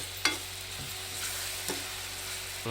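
Chopped green onions frying in a pan for a country-style paneer and peas dish, giving a quiet, steady sizzle with a few sharp stirring clinks and scrapes.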